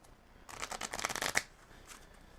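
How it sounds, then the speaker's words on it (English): Cards from a Magic: The Gathering Commander deck get riffle-shuffled in a quick, close burst of crisp flutters lasting about a second, with a soft trailing shuffle afterward and no voices. "Hardest part about Commander so far seems to be all the shuffling."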